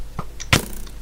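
A Minecraft skeleton shoots an arrow in the video game: a quick, faint whoosh followed by a sharp hit, all within about a second.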